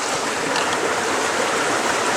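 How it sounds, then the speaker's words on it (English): A stream flows over bedrock near an old mine site, producing a steady, loud, close rushing and babbling of water with no voices. "this is where it crosses the stream, right through here"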